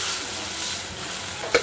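Mashed cooked colocasia stirred into a hot garlic tempering, a steady close sizzle and frying hiss with soft stirring scrapes and a brief clink near the end.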